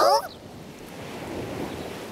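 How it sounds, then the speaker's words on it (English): Ocean waves of the tide in a cartoon wash in as a steady, soft surf rush after a brief voice at the start. "The sound of the waves!"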